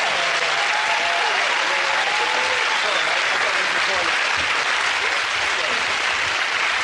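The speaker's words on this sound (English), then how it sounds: "OK, give that round of applause." A studio audience at a TV comedy panel show gives a loud, sustained round of applause, a steady wash of many hands clapping throughout with no break.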